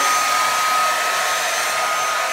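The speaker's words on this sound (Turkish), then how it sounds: "Sen saçlarını mı kurutuyorsun?" An Arçelik hair dryer blows steadily on a child's hair, a loud, close, continuous whooshing whine with a thin high tone running through it and no voices over it.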